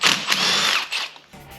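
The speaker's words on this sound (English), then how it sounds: "now I'm pretty much ready to take all the valve cover bolts off" Power tool, likely an impact driver or drill, loosening the valve cover bolts on a GM Ecotec engine during a timing chain job; a loud, steady whirring burst of about a second with a shorter second burst after it.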